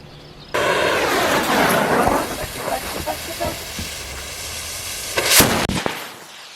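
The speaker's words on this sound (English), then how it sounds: "they call them missiles. I call them rockets. You've seen me use them to blow up pumpkins." Firework rockets, the kind used to blow up pumpkins, launch with hissing whooshes followed by a few sharp pops and bangs, close and loud, over several seconds.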